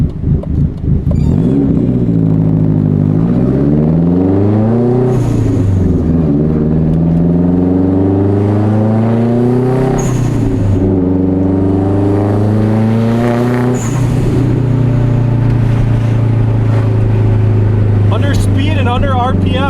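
Turbocharged car engine accelerating hard on the street, loud and close, with repeated rising rev sweeps through the gears and brief dips at each shift, a few faint clicks near the end.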